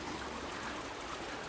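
Water running steadily through a farm irrigation channel, backing up and spilling out toward two fields; a faint, even trickling rush with no voices.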